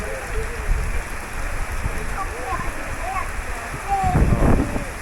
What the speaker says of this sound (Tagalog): Hello, rain, yes, it's raining.